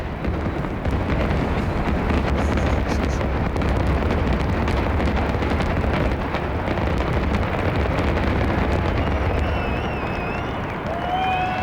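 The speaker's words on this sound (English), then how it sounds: "Probably the most spectacular fireworks we've seen yet." Dense, continuous crackle and rumbling booms of a midnight fireworks finale at the Eiffel Tower in Paris, loud and sustained throughout with a few faint whistling trails rising near the end.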